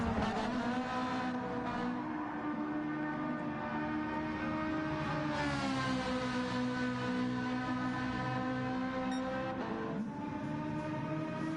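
Race car engine in Gran Turismo 7 at Kyoto Driving Park Miyabi, droning steadily through a fast lap with smooth rising and falling pitch, moderately loud and without talk.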